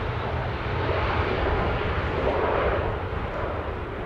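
A jet airliner arriving at Amsterdam Schiphol Airport on a windy day roars steadily and loudly for the whole stretch, with a broad engine rumble and rushing air and no talking.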